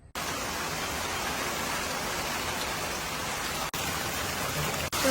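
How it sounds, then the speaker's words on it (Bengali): Steady heavy rain pours down in a sal forest of the Jhargram Jungle Mahal, a dense continuous hiss with brief dips, near and loud with no talk. "বৃষ্টি শুরু হয়ে গেছে ভাবতে পারিনি যে এত বৃষ্টি হবে"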